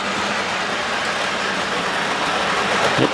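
A Märklin model train runs along a home layout with signalling, a continuous close rumbling whir of the small motor and wheels on track, steady and fairly loud, with a faint knock at the end.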